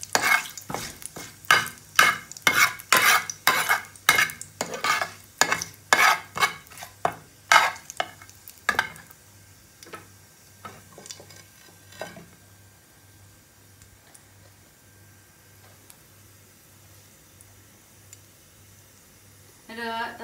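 Cumin seeds toasting in a pan, with a spatula scraping and stirring in quick, loud, rhythmic strokes for about nine seconds before settling into a faint, quiet sizzle.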